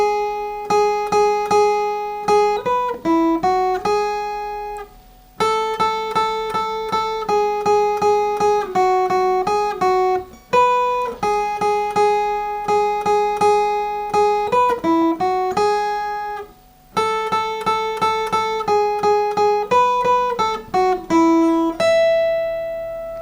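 Jingle Bells picked as a clean single-note melody on guitar, each note ringing clearly in steady rhythm across the full tune with short pauses between phrases and no talking.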